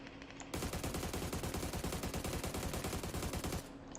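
An AUG assault rifle in PUBG fires a fast, sustained full-auto burst of evenly spaced, loud, close shots lasting about three seconds, then stops abruptly.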